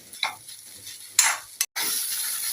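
Okra curry fries in a pan with a low sizzle, broken by a few short scrapes and a brief clatter, then a louder steady fry, close and without talk.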